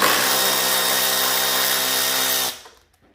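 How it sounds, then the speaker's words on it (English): A 3/8 battery-operated ratchet spinning out screws and nuts on a snowblower, a loud steady whirring motor run for about two and a half seconds that cuts off abruptly, close up, no speech. "Go ahead and remove the screws. You got two here. You got two nuts here."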